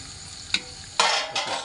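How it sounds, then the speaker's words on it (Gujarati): Onion tempering sizzling in a pan while a cook stirs it with a spoon, steady frying hiss with a few sharp scraping bursts near the end. "ચમચેથી હલાવશે આ ભાઈ"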